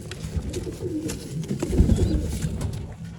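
Racing pigeons coo in soft, low, rolling calls that repeat steadily, close by, with a faint rustle of movement in the background.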